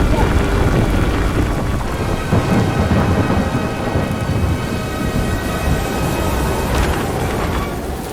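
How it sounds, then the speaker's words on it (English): A heavy outdoor downpour during a thunderstorm: loud, dense rain roars steadily throughout, with low rumbling thunder rolling underneath and no break in the noise. "that's going to be Major Rain in 1 second"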